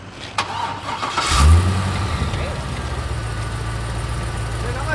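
A car engine cranks and catches at close range, then settles into a steady rumbling idle. A brief loud burst comes near the start.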